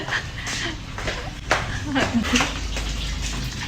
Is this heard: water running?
yes